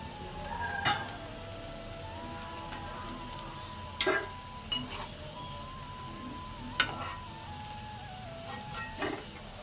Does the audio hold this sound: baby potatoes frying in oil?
yes